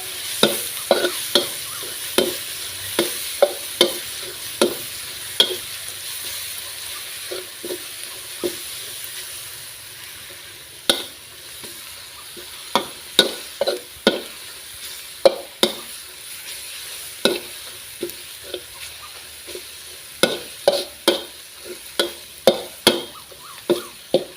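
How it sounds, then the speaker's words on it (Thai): Garlic fries in a pan with a steady low sizzle while a utensil stirs it, giving sharp scraping clicks at an uneven rhythm, close up and without talk. "เราก็เอากระเทียมมาเจียวให้หอมหอม"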